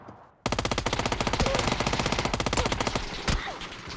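A weapon in the PUBG video game fires in a fast automatic burst lasting about three seconds, loud and close, with one last heavier shot just after.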